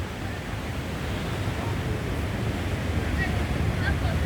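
Rough sea surf below the Dojjebigol skywalk in Donghae on a day of heavy waves, a steady broadband wash of breaking water with some wind buffeting the microphone, continuous and moderately loud.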